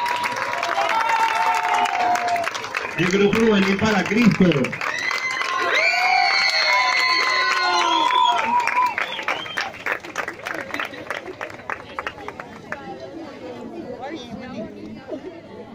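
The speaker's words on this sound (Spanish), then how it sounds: "Un fuerte aplauso para ellos." Parish audience applauding and cheering a church youth group after their performance in a religious staging, loud clapping and crowd chatter, with children shouting, and a voice speaking over the noise before the clapping thins out.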